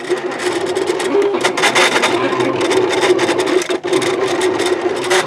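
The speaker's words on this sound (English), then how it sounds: "So, machine's going to start cutting here." A vinyl cutting machine slicing heat transfer vinyl, a steady close mechanical whir and rasp with a constant hum, running continuously with one brief dip near the end.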